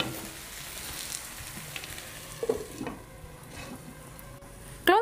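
Masala-coated vegetables for egg noodles cook in a pan with a soft, steady sizzle and occasional light stirring clinks, close and fairly quiet, ending with a sharp clatter.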